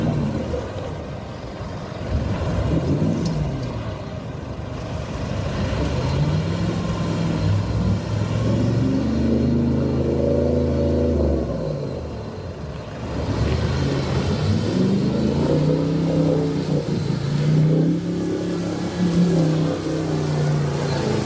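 A Toyota Land Cruiser churns through deep mud off road, its engine droning and revving in long rising and falling surges, loud and continuous, with a brief easing midway before climbing again.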